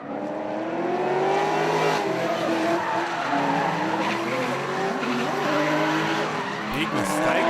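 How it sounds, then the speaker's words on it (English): Drift car sliding sideways at a Trans Tasman Drift Series round in Sydney, tires squealing and engine revving in a loud, continuous skid that carries through the whole stretch, with a crowd-like wash underneath. "Let's enjoy the last race, the last drift for the weekend."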